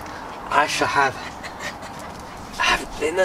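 A puppy whines in high, wavering whimpers with breathy panting between them, close and fairly loud, in a few short bursts.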